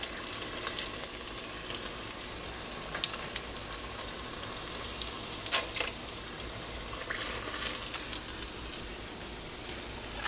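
Apple wontons fry in hot oil with a steady, soft crackling sizzle throughout, sharpening into brief louder pops now and then, nearby and without any talk.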